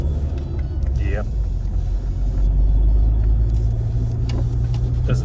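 Steady low rumble from inside a moving MK5 Ford Escort with a newly fitted exhaust, a continuous engine and exhaust drone with road noise, fairly loud throughout.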